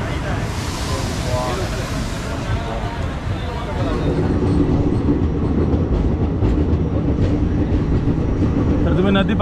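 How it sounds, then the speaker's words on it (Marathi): Mumbai Express train pulling into a station, a loud, steady rumble and rolling clatter that swells slightly midway and carries on without pause, with faint background voices mixed in. "तर फायनली आमची ट्रेन आलेली"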